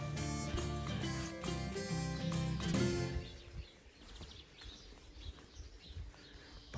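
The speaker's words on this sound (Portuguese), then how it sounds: "Passarinhada cantando aqui logo cedo." Songbirds chirp and call in a spring garden early in the morning, light scattered notes over soft outdoor ambience after a brief loud tonal passage at the start.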